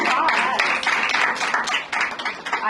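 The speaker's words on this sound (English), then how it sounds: "Round of applause." An audience at a Gen Z panel on digital personal branding breaks into applause, a close, busy patter of clapping hands running the whole way through.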